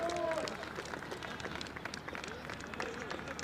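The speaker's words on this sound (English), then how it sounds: "hear the crowd go wild there" A crowd at a school rugby sevens match cheers and claps after a try. The noise is a steady, fairly distant roar with scattered shouts and whistles running throughout.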